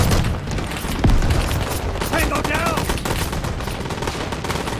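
Rapid bursts of 30mm cannon fire from BTR-82 armoured vehicles in the Call to Arms video game, loud and dense, mixed with booms and battle noise while voices call out over the fighting.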